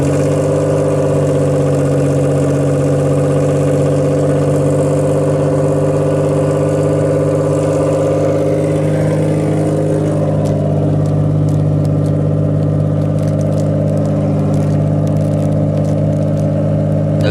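A Mitsubishi 3000GT engine turns over and settles into a steady, droning idle with a low hum, running continuously and close by.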